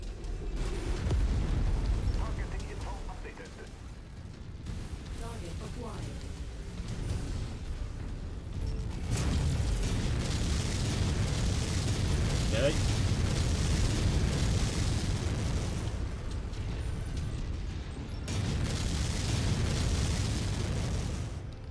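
Explosions and booms from the Mechwarrior 5: Mercenaries video game as a target is destroyed, a loud, dense roar that runs continuously with swelling bursts and brief dips, no voices.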